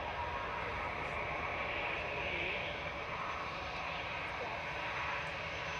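An EasyJet Airbus A320-200 bound for Belfast rolls on takeoff at Manchester Airport, a steady broad engine roar holding at even strength throughout.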